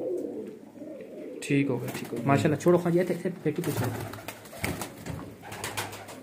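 Pigeons at a breeder's loft coo softly in the background while people talk over them at close range, the birds' low murmurs surfacing between and beneath the voices.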